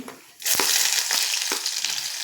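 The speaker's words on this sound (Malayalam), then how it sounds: "എണ്ണ ചൂടായിട്ടുണ്ട് കടുകിട്ട് കൊടുക്കാം നമുക്ക് വെളുത്തുള്ളി" Mustard seeds and garlic hit hot coconut oil with a sudden loud burst of sizzling and crackling that holds steady, with faint stirring knocks underneath and no talk.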